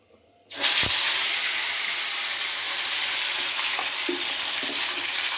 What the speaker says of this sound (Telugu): ఇది మనం అల్లం వెల్లుల్లి పేస్ట్ కూడా ఫ్రై చేసుకోవాలండి